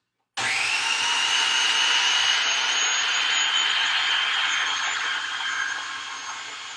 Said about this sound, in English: we are going to process this until the sauce is nice and creamy and smooth